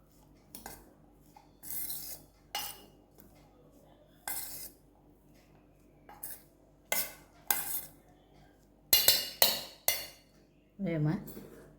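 A spoon scrapes and clinks against a bowl while boiled corn is tossed with cornflour and maida, coming as short separate bursts with quiet gaps between them and a few sharper metallic knocks.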